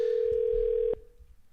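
A steady telephone tone sounds loud and close for almost a second, then cuts off abruptly, heard while a caller is being rung back during a radio call-in show.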